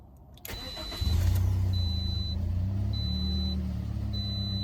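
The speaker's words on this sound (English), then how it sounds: "Let's put the key back in. There's the ignition." A 2009–2013 Toyota Corolla with a newly replaced starter cranks briefly when the ignition key is turned, then catches and settles into a steady, fairly loud idle hum.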